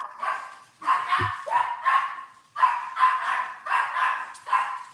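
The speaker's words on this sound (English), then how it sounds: "My dogs are barking." Several dogs bark at someone arriving home, with repeated clusters of sharp barks and yips at close range and a brief low thump between bursts.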